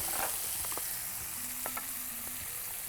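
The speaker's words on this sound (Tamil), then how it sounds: "நல்லா வதக்கிறோம். பச்சை மிளகாயை போட்டுருவோம்." Green chili, carrot and beans sautéing in a pan, giving a soft steady sizzle with a few light stirring scrapes. Fairly quiet and close, with no voices.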